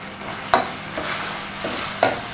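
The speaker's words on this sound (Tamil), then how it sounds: "தக்காளி வதங்கட்டும். கொஞ்சம் தக்காளி வதங்க." Tomatoes with bay leaf, cardamom and cinnamon sauté in a pan for paneer butter masala, a low steady sizzle broken by a few sharp spoon clinks against the pan.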